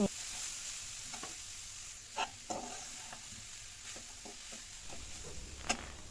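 Grated coconut being stirred in a dry pan for coconut halua, with a few scattered scrapes and taps of a spoon against the pan over a soft, steady hiss.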